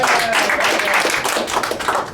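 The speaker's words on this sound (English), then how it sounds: "Round of applause for Zach Hammond." A round of applause from a comedy audience, dense continuous clapping that stays steady and fairly loud throughout with no one speaking over it.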